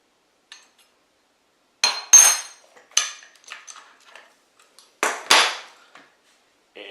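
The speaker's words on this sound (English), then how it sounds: "Take one wrench, it's a 13/16 wrench, hold your rear, then move your front, and you just cinch it tight." Metal clinks and taps from a 13/16 wrench cinching an RF connector onto 1/2-inch LDF4-50A Heliax coaxial cable, a handful of sharp close knocks in short clusters with quiet gaps between.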